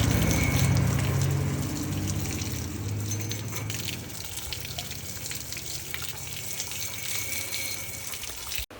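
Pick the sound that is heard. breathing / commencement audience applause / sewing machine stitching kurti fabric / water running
water running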